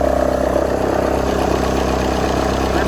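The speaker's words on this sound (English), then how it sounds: "I think you just blew the downpipe off." A Ford F350 truck engine runs with a blown-off exhaust downpipe, giving a steady, harsh mid-range roar with a constant tone throughout.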